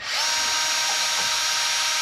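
A power drill with a worn-out bit whines loudly and continuously at close range into a 1968 Pontiac ambulance's core support, its motor pitch wavering slightly as it bites into material.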